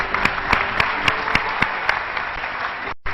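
A studio audience on a talk show breaks into steady applause, a dense bed of clapping with a few sharper claps standing out at regular intervals before cutting off abruptly near the end.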